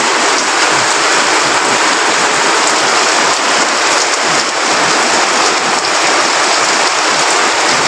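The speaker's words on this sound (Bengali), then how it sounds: "খুব জোরে এসছে এখন বৃষ্টি, খুব জোরে পড়তেছে।" Heavy rain pours down steadily in the middle of the night in Fatikchhari, a loud, even, close hiss with water running off the side, continuous without breaks and with no voices.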